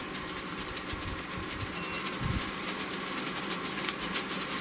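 Record Power AC400 two-stage workshop air cleaner running at its second fan speed, a steady broadband whoosh of moving air with a low mechanical hum underneath, continuous and close with no talking.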